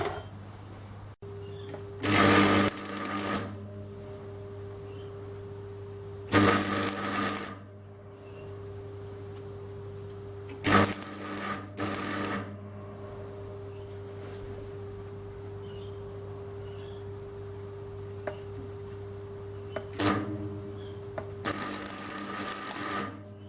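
Welding parts onto a homemade magnetic broom in a workshop, heard as several short, harsh bursts of a few seconds each, spaced apart over a constant low electrical hum.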